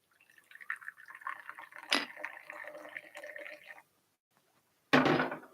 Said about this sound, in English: So we're just going to pour the tea.